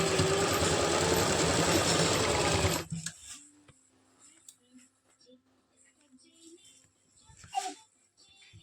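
A sewing machine stitching palazzo pants runs loudly and steadily for about three seconds, then stops, leaving quiet handling noises and soft talk.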